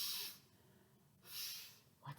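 A voice imitates a dog sniffing, giving two short, breathy sniffs close to the listener against quiet background hiss.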